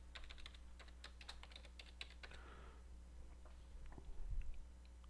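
Rapid keystrokes on a computer keyboard as a complex password is entered, a dense run of clicks for about three seconds, then a few scattered taps over a steady low hum.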